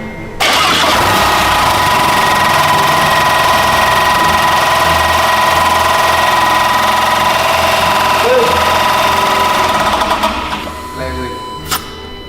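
Rebuilt engine of a water-damaged Porsche Macan, with a suspected faulty alternator and possible flywheel contact, starts up and idles roughly: loud, close, steady running with a persistent whine for about ten seconds before shutting off.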